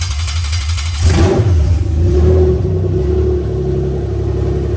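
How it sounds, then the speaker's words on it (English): A Toyota 1G-FE engine on an ECUMaster aftermarket harness cranks, catches and revs up, then settles into a steady, loud idle rumble with a clear running tone. "And now I can kill the engine and start it back up again."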